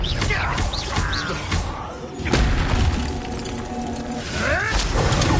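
Confringo and Incendia spell blasts from the Hogwarts Legacy video game, loud crackling bursts, shattering hits and mechanical whooshes layered over game music, with a heavy impact in the middle.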